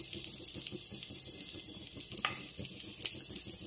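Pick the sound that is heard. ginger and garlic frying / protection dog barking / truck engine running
ginger and garlic frying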